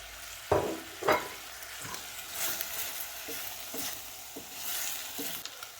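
Onions, peppers and garlic frying in a pan with steady sizzling, interrupted by a few stirring scrapes and knocks, close and moderately loud, with no talking.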